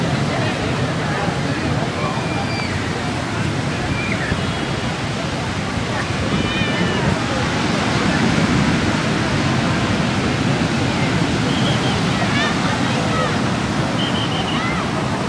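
Ocean surf at Kuta Beach, Bali, on an overcast day washes in as a constant broad roar that never lets up, with faint voices of people in the background.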